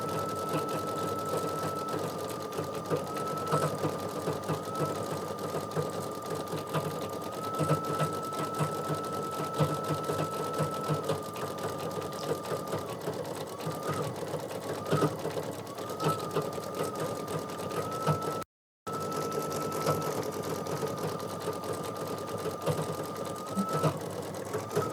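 An embroidery machine stitches a Kimberbell mug rug with a steady, continuous mechanical whir and rapid needle chatter that runs on evenly, broken only by one very brief gap.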